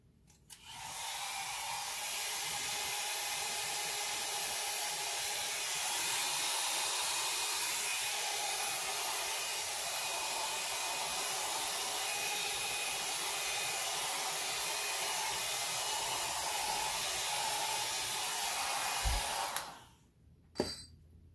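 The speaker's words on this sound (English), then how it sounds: "Now I'm going to give this a quick little blow." Air blown across fresh alcohol ink artwork, a steady, even rushing hiss like a small blower that runs continuously for about nineteen seconds before cutting off, followed by a faint knock.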